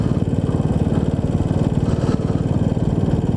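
A Royal Enfield Bullet 500, an English-designed single built in India, rides along a neighbourhood road with a close, even thumping exhaust beat and a quick, steady pulse throughout.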